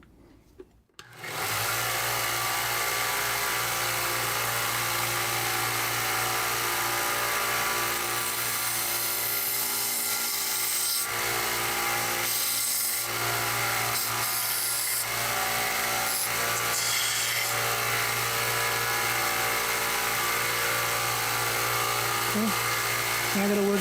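Pruning shears being sharpened on a grinder. The edge is worked while it is kept wet. A steady, loud grinding hum with a rasping edge runs almost unbroken and close up, with brief dips where the blade shifts.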